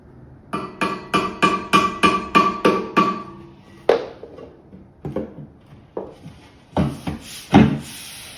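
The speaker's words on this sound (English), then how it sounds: "I'm going to use my little plastic faced hammer here to tune the little mount ears to level out the shelves and the top" A small plastic-faced hammer taps metal mount ears on an industrial-style console table, first a quick run of about ten even, close knocks, then scattered single taps and a few firmer blows.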